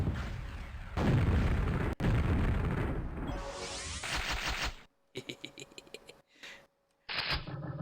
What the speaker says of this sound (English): I just picked up a rocket launcher.